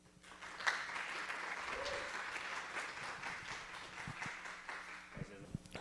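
Audience applause welcoming speakers at a talk at a fabrication festival, a faint, steady patter of clapping across the room with some voices over it, fading toward the end.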